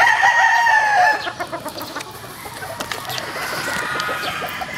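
Gamecock roosters of fighting breeds such as Roundhead crow loudly and near, one long crow at the start, followed by steady clucking and scattered calls from a farm yard.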